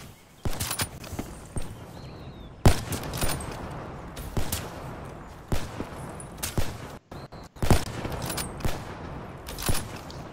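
Sharp, loud gunshots from Black Ops 3 in a 2v2 match, a dozen or so separate cracks spaced irregularly with short rapid clusters, close and prominent with little talk.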